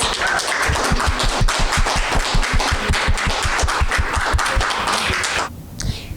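An audience applauds panelists at a library discussion on women in law enforcement, with loud, sharp, closely spaced claps that fade out near the end.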